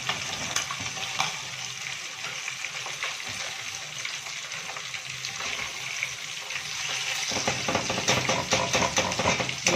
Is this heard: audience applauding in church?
no